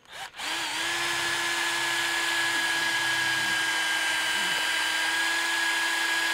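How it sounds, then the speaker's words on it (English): A power drill with a step bit drills holes by hand in Corvette Z06 spoiler fabrication, whining steadily and loudly at close range after a brief start, holding one high-pitched tone without a break. "Just gonna drill these guys by hand using a step bit"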